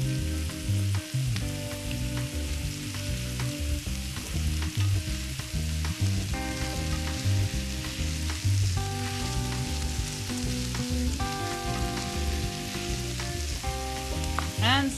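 Garlic and pepper strips sizzle steadily in a hot pan, with a dense crackling fry and occasional stirring scrapes throughout, loud and close with no talking.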